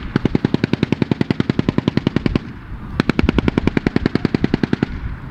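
Long bursts of blank machine-gun fire during a battle reenactment at a military vehicle show, evenly spaced loud rapid shots in two strings separated by a short pause, close and clear with no talking.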